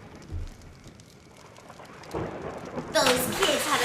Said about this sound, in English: It wasn't supposed to rain.